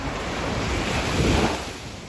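Steady surf from a very high sea washes in on an island shore after a typhoon, a broad, continuous rush mixed with wind noise across the microphone, swelling slightly midway.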